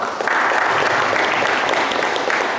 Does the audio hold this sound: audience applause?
yes